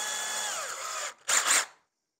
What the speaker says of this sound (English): Option one, hammer drill function.